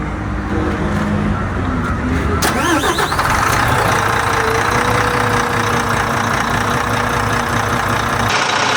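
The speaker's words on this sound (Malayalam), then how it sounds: "വോൾവോയുടെ എഞ്ചിൻ ഒന്ന് സ്റ്റാർട്ട് ചെയ്ത് കാണിച്ചു തരാം" A long multi-axle Volvo bus's large diesel engine cranks and catches, then settles into a steady, loud idle rumble that continues to the end.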